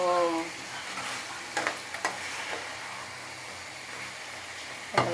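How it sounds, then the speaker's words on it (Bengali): Chicken with new potatoes and papaya is stir-fried and braised with spices, giving a steady sizzle broken by a few sharp scraping stirs of a spatula against the pan, with no talk. "কত সুন্দর কষানো হয়ে গেছে দেখুন,"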